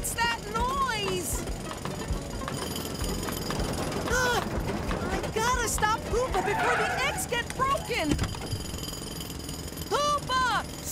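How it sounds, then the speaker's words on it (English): A cartoon drill hammers loudly and continuously beside an egg basket in an animated truck, a rattling mechanical din under animated voices talking and squealing over it. "Wait, let me turn off the drill."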